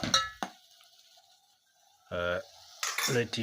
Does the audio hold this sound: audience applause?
no